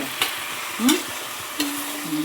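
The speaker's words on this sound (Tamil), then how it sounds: "இப்போ நல்லா கிளறி விட்டு மூடி வச்சிடலாமா?" Food in a home frying pan being stirred, soft sizzling under a few scraping strokes of a spoon against the pan and brief clinks, close and fairly quiet.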